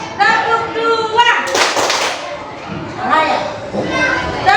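Schoolchildren clap together in a counted routine, with short bursts of claps between a teacher's spoken counting and children's voices.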